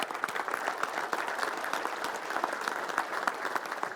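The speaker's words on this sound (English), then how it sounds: "A round of applause for them" Steady, moderately distant applause from an event audience thanking behind-the-scenes staff, a continuous wash of many hands with a few sharper individual claps standing out throughout.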